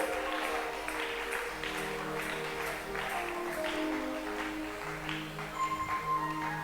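A church congregation applauds, a steady wash of clapping that carries over sustained organ-like tones and rises briefly near the end.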